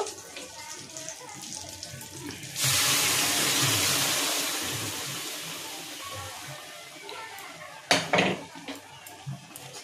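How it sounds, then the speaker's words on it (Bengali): Boiled kidney beans and their liquid pour from a pressure cooker into a wok, a loud wet splashing rush that starts abruptly and tapers off, followed by a metallic clank and scraping. "এখন আমি প্রেসার কুকার, খুব সুন্দর সিদ্ধ হয়ে গেছে রাজমাগুলো। এখন আমি কড়াইয়ের মধ্যে ঢেলে দেব।"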